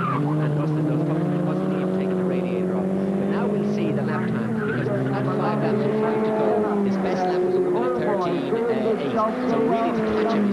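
Race cars lapping the Phoenix Park circuit in 1997 roar steadily with a continuous engine drone from start to finish, under a commentator talking throughout.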